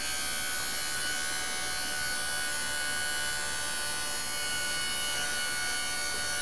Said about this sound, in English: See the pump laboring?